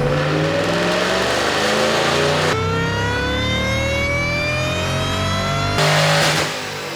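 A 2011 Shelby GT500 Mustang with a glass roof is run hard on a dyno, its engine revving up in long rising pulls with a brief shift, loud and close, with no talk.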